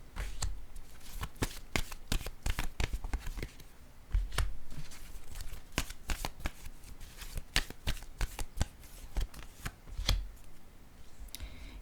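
Oracle cards are shuffled and handled up close, producing a steady run of crisp riffling and sharp slapping clicks at an even, moderate loudness.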